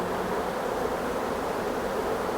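Honey bees buzz around an open five-frame nuc box during hive inspection, a steady dense hum with no breaks, close and moderately loud.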